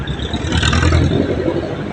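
Road traffic on a dim, rainy-looking day: a car or cars pass close by with a loud engine whir and revving swell that peaks midway and then eases, with no voices.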